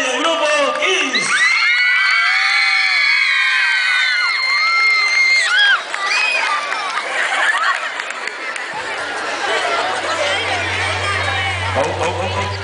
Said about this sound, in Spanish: con ustedes, el aplauso